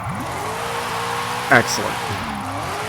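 A 1997 Lexus SC300 with an AWD drift tune and 1,017 horsepower revs its engine steadily throughout, rising and falling in pitch. A brief sharp burst sounds midway, and someone talks over the engine noise.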